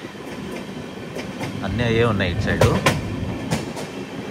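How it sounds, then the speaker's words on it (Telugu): The Kondaveedu Express (17211) rolls slowly through thick fog, giving a steady rail rumble with soft rhythmic clatter throughout, while people talk over it. "ఫ్రంట్ది ట్రైన్ స్లోగా పోతుంది."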